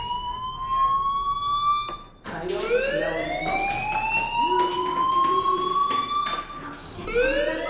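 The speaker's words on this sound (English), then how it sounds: "do you hear that fire alarm?" A school fire alarm in the video game Life Is Strange wails in rising sweeps, loud and close, one cut off abruptly before the tone restarts and repeats.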